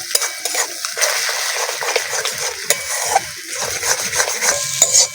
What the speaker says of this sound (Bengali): তেলটা ভালো করে গরম হয়ে গেছে। ফেটিয়ে রাখা ডিমটা দিয়ে দিচ্ছি। ভালো করে নেড়ে দেব।